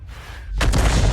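A tank cannon fires in a video game, a single sudden heavy boom that breaks in after a quiet moment and rumbles on to the end.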